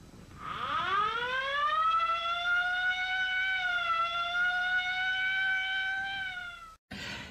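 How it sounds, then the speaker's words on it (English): A single long rising and held wail of an ambulance siren, loud and sustained with a slight dip midway, fading out before an abrupt cut. "Ambulance."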